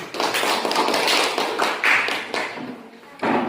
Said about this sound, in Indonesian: Tepuk tangan kepada kelompok 1.